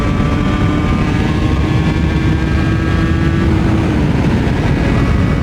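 A Yamaha TZR 80 RR motorcycle engine revs hard and continuously, a loud, close, buzzing two-stroke drone that climbs steadily in pitch with no talk over it.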